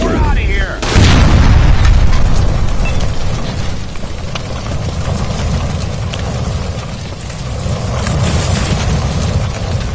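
A gas line explosion in L.A. Noire at a burning electroplating works: a loud booming blast near the start, followed by a rumbling roar of fire and debris, with voices at times.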